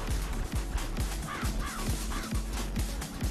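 Crows cawing repeatedly in the Tokyo Jungle video game, harsh calls over a steady busy game backdrop with rhythmic low thumps.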